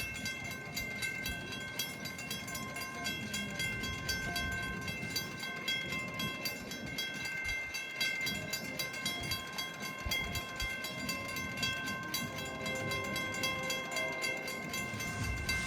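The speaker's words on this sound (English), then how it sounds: "another train coming" A westbound train rumbles past at a moderate distance, its wheels clattering rhythmically over the rails in a steady, continuous roar with faint tonal squeals.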